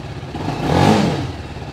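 A TVS Apache RR 310 motorcycle with a BMW-built engine revving once, the exhaust note swelling and then fading over a couple of seconds, loud and close with no talking.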